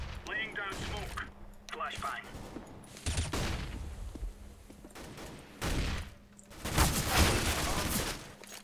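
Gunfire in Counter-Strike: Global Offensive, with bursts of rapid shots and heavy thumping reports from the match, loud and close, over continuous background game noise.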